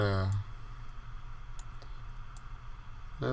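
A computer mouse clicks to select StatCrunch in a statistics program, with a couple of faint, sharp clicks close by in a quiet room. Brief bits of a voice sit at the start and end.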